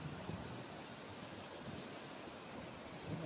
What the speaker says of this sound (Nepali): बाप रे, एकदमै ठुलो भयो खोला।